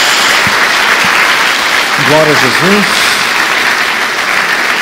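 Loud, sustained applause from a church congregation, with a voice speaking briefly over the steady clapping.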